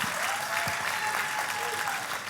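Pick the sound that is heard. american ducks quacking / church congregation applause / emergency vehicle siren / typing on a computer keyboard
church congregation applause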